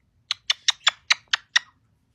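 A black-headed caique parrot lets out a quick run of seven shrill, high-pitched squawks or chirps, evenly spaced and close, with near silence around them.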